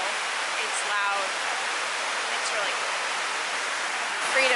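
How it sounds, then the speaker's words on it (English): Water pours continuously into the infinity pool at the World Trade Center 9/11 Memorial on a rainy day, a loud, even rushing roar with a voice faintly audible beneath it. "It's raining here, and then it's kind of like supposed to be an infinity pool,"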